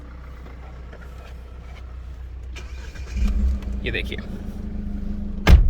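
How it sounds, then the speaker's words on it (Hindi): A Force Gurkha engine revs up from a steady idle, the rise loud and close, while someone talks over it. "कितना फ़र्क आ गया है इसकी आवाज़ में, कितनी आसानी से ये रेव कर रही है"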